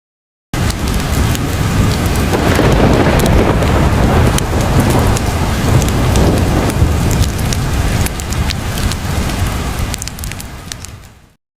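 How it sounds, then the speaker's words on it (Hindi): Heavy rain pours steadily onto surfaces, a loud dense hiss with scattered sharp drops, while rumbles of thunder roll underneath; the downpour starts abruptly, continues alone without talking, then fades out at the end. "पर अभी तो बहुत ज्यादा बारिश हो रही है।"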